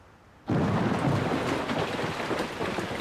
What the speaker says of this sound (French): Voilà la pluie qui se met à tomber.